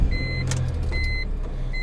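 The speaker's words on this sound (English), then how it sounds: "Let's turn the car on." A BMW E46 M3 is switched on, setting off a repeating pattern of clear electronic warning chimes over a low idle hum, with a door and trunk not properly shut.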